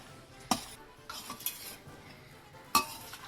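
Beef stir fry in a light gravy is stirred in a pan, with a few sharp metallic scrapes and clinks of a spoon against the pan over a faint background, close and without talking.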